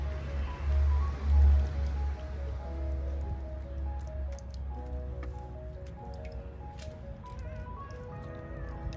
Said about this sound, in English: Need to water it a little bit.